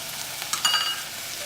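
Onion and fenugreek seeds sauteing in a pan for a red lentil dish, a steady soft sizzle with a few brief stirring scrapes midway, close and fairly quiet.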